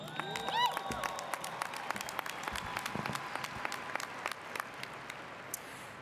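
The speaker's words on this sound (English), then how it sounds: "let's give a cheer" High school graduation audience breaking into applause and cheers, sharp scattered claps over a broad crowd roar, moderately distant, with voices and whoops at the start.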